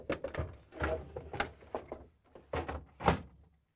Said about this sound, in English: And now again, sliding in the ice container.